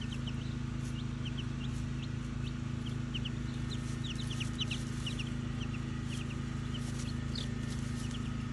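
Hen and her chicks in grass, with faint, rapid high chick peeps scattered over a steady low hum of outdoor background noise.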